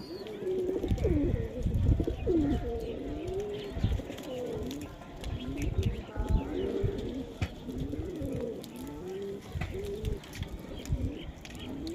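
Pigeons coo in repeated throaty rolling calls close by, several birds overlapping with soft rustles and chirps between them, with no talk.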